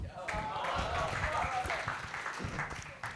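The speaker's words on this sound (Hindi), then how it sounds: "एक बार जोरदार तालियों से स्वागत कीजिए मनोज शाश्वत जी का" An audience claps in welcome for poet Manoj Shashwat at a shayari recital, a brief, moderately loud round of applause mixed with a voice speaking over it.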